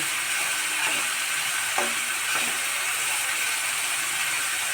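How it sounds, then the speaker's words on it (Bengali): Spice masala fries in oil in a pan with a loud, continuous close-up sizzle and crackle, broken only by faint scraping from stirring. "দেখুন মশলা দিয়ে আমার তেল ছাড়তে লেগেছে"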